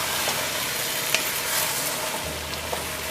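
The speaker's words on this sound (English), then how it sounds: "Now I'll add my green onions." Green onions added to a hot frying pan while cooking a curry, giving a steady close hissing sizzle throughout with a faint low hum underneath.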